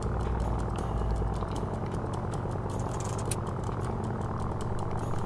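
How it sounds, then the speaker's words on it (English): Boat engine in the Stranded Deep survival game turning over and settling into a steady, rattling idle that runs continuously, close and fairly loud with no talk. "Hold to start the engine."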